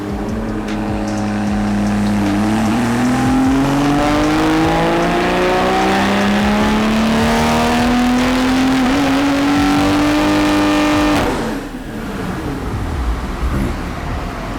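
A BMW G20 M340i with an AWE exhaust revs on a dyno, its engine note climbing steadily in a loud sustained pull for about ten seconds before cutting off and settling back to idle.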